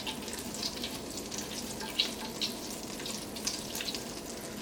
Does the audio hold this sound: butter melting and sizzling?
yes